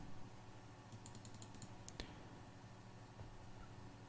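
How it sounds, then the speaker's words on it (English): Quiet clicks of a computer keyboard and mouse during photo editing, a quick cluster of light taps followed by a couple of sharper single clicks, near and alone over faint room hum. "you click on Alt on the keyboard and then you click on your mouse"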